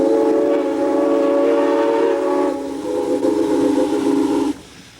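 A horn of the historic Eureka Springs and North Arkansas Railway train blows loud and close as a sustained multi-tone blast, briefly dipping then holding before cutting off, leaving a quieter background.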